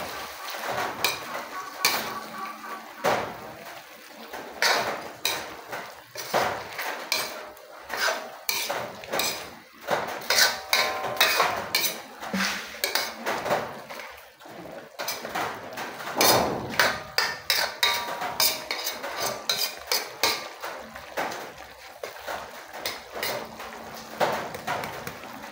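Chicken adobo with soy sauce stirred in a metal pot, a utensil scraping and clanking against the sides in rapid, irregular strokes for the whole stretch, close and fairly loud.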